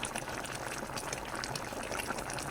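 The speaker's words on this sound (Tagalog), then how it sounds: "Kumulo na ng kumulo." Humba pork trotters bubbling in a pot, a steady low rolling boil with fine crackling bubble pops, faint and continuous with no talk over it.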